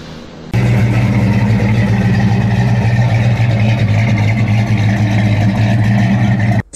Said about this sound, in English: A vintage car is an old car, four-wheeled motor vehicle used for transportation.